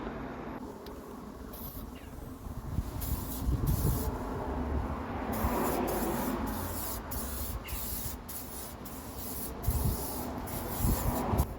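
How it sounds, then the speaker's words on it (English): Steady hiss of a spray gun painting a car, continuing in long bursts with brief pauses, close and fairly loud, with wind noise underneath. "I keep changing positions on the car and spraying parts depending on how bad the wind is"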